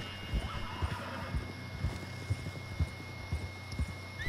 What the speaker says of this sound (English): even though I'm riding this white horse right now